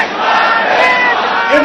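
A huge outdoor political rally crowd in Lahore chants a slogan back in unison, a loud, dense roar of many voices sustained throughout.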